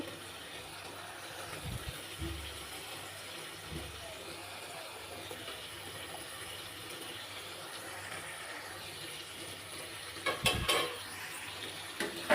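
Hilsa fish pieces with roe frying in a pan of oil, a steady low sizzle running throughout with occasional pan clinks and a brief louder clatter near the end.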